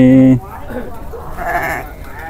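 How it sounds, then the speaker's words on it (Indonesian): A large Garut sheep at a sheep market lets out one loud, close bleat, followed by someone talking over faint market background noise. "nih domba besarnya"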